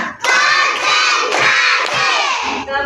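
Classroom of children in an Indonesian school chanting and clapping together in a counting routine, a loud massed burst of young voices with rhythmic claps, ending with a short pause.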